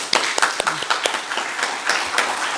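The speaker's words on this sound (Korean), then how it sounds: "하나님께 영광 박수 드리겠습니다" A church congregation at a Sunday service claps briefly, with scattered sharp claps and some voices mixed in, fairly close and moderately loud.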